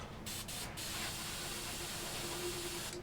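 An airbrush sprays BS dark green paint inside a spray booth, giving a steady, close, unbroken hiss with a few brief pauses near the start.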